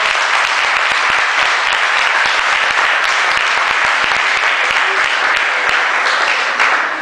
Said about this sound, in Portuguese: Aleluia, dê um aplauso.